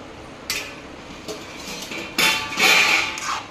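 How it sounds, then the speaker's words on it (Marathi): A metal cooking-pot lid lifted off a pot of simmering Khaparkhuti (punarnava) wild greens, with a clink and scrape, a short rattle, then a louder clattering lift and faint ringing. "मी आता हे झाकण काढत आहे"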